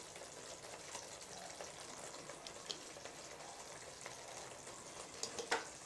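Fried paneer is stirred into a gravy that sizzles quietly, a faint steady frying hiss with occasional soft scrapes and clicks of a spoon near the end.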